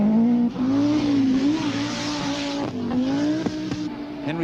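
Rally cars such as Audi Quattros and a Peugeot at the 1000 Lakes Rally in the 1980s roar past at speed, a loud sustained engine drone with pitch shifts as the drivers change gear and work the throttle.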